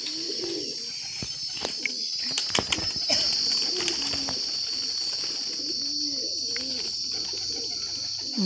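Village high flyer pigeons of the Madrasi and Nisaure breeds coo in repeated soft low rolling calls, close and steady, with a few brief knocks and rustles and no talking.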